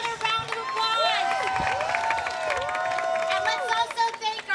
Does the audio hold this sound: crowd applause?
yes